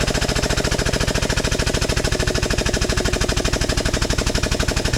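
A tube bending machine works aluminum tubing with a steady, rapid mechanical pulsing, loud and close, running evenly throughout without any talk.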